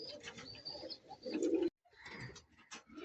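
Pet pigeons cooing near and loud in soft, overlapping rumbling phrases, with a short break partway through before the cooing picks up again.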